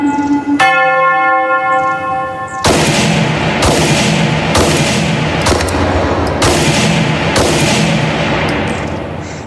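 Pistol fire in the VR game Hot Dogs, Horseshoes and Hand Grenades: a string of loud, close shots at an uneven pace, each ringing out sharply after a brief bell-like chime.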